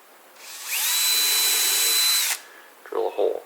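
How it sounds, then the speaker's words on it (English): A power drill bores a hole for a side-mount drawer slide, running in one steady, loud, high whine for about two seconds before stopping, followed by a couple of short handling knocks. "Drill a hole."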